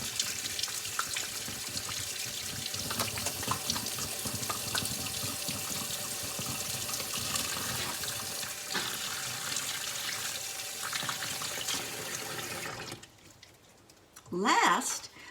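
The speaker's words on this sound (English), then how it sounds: "Then we rinse away the bubbles with water from the sink." A bathroom sink tap runs in a steady, close gush of water while hands are rinsed free of soap bubbles, then cuts off near the end, followed by a brief louder sound.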